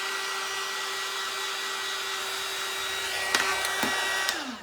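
A hair dryer blows steadily at close range over a wet craft faux cherry, a continuous whirring hum with a few faint clicks and knocks near the end.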